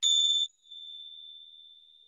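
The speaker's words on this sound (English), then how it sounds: "So we'll start and finish with the sound of the bell." A meditation bell is struck once, giving a bright, clear tone that sounds loud for a moment, then settles into a long, pure, fading hum in an otherwise silent room.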